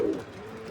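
Pigeon cooing in a loft, a short, close, low murmuring call that swells at the start, then settles into a soft steady hum, with no talk.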